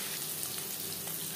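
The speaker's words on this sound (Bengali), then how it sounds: "পনির হালকা করে ভেজে নেব।" Paneer with salt and turmeric fries lightly in a pan, a soft, even sizzle that is fairly faint and continuous across a brief moment, with no talking.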